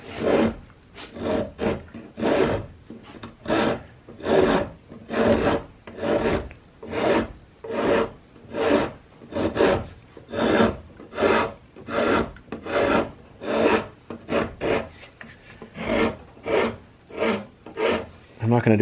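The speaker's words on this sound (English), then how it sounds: "I'm going to start by trying to use this pretty coarse half-round rasp, just because we have a lot to work through." Coarse half-round rasp filing wood on a rifle cheek rest, rhythmic close rasping strokes repeating steadily about once a second, each a gritty scrape.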